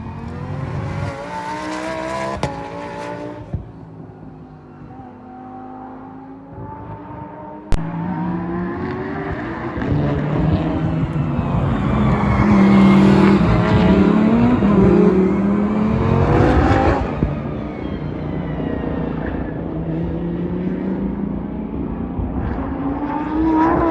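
A Lamborghini Super Trofeo race car at speed on the Varano circuit, its engine roaring loud and close through rising and falling revs and gear changes, with a sharp bump partway through and no talk.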